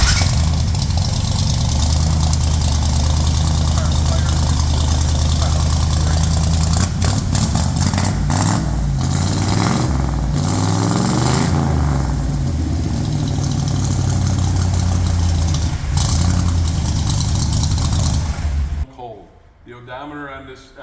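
A fuel-injected Black Widow car with a three-speed column shift runs loud and close, its engine holding a steady, rough idle before cutting off abruptly near the end.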